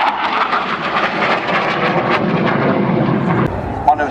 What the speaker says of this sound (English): One of Sydney Cam's most beautiful aeroplanes. Rolls-Royce Avon powered